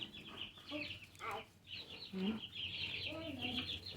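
Several young chicks clucking and peeping in a small backyard flock, short chirpy calls in bursts, fairly close and moderately loud with quiet gaps between.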